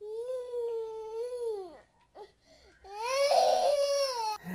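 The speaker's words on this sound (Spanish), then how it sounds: "un llanto de niño, vamos a escuchar acá" A child cries loudly in long wailing sobs, breaking off briefly before a second, higher and more intense bout of crying, close and clear with no other sounds.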